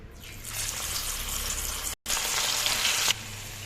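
Prawns coated in cornflour batter drop into hot oil and fry with a loud, steady broadband sizzle, interrupted by a brief silent gap, then resuming and easing slightly near the end.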